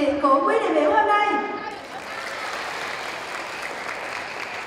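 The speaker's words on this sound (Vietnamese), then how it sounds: "Chúng ta dành những tràng pháo tay thật lớn để chào mừng sự hiện diện của quý đại biểu hôm nay." A crowd applauds to welcome delegates at a regional dance-club exchange event in Vietnam, a broad wash of clapping that follows a few seconds of amplified voice.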